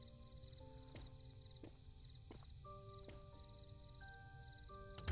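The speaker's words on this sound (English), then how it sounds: "I like the sounds of the nightlife. The crickets." Crickets chirp steadily through a night scene in the mystery game Murders on the Yangtze River, a continuous soft insect trill with light tonal game ambience over it and a few faint clicks, no voices.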